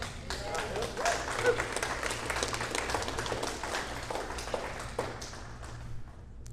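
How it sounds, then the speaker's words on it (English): An audience at a TEXIT political rally in Amarillo claps in sustained applause that fades out toward the end, heard at a moderate distance. "Applause."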